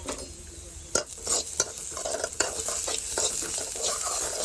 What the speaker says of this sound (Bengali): তো এখন আমি এই গাজর আর পেঁয়াজ কুচিটা ভালো করে ভেজে নেব।